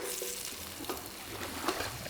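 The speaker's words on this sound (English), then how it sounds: "So you just fry the ginger and garlic up till that's like aromatic." Ginger and garlic sizzle and crackle steadily in a hot pan, with a few soft clinks and stirring sounds.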